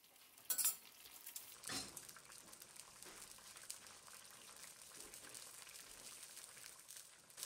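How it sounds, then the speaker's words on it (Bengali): Mutton liver being stirred into onion gravy in a pan for Bengali liver do pyaza, with faint utensil clinks and soft scraping over a low, quiet simmering hiss. "ভালো করে গ্রেভির সাথে মিশিয়ে নিচ্ছি"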